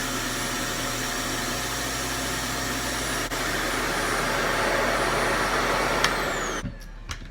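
A RevAir hair dryer suction unit roars in a steady loud whoosh while drawing natural hair in, then cuts off near the end.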